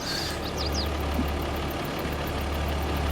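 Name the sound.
X9 combine harvester engine running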